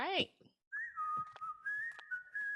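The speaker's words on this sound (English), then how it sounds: "All right, whistling." A clear melodic whistle carries a sustained tune over a soft backing in a song, preceded by a brief sung vocal note.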